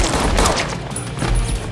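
A John Wick 2 film scene with a rapid burst of loud gunfire, several shots in quick succession, timed to an arrangement of Vivaldi's Summer.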